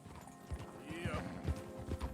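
Horse hooves clip-clop in Red Dead Redemption 2 as horses pull a wagon, a steady rhythmic plodding of close, dull hoofbeats under faint voices and game background.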